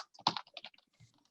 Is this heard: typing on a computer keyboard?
yes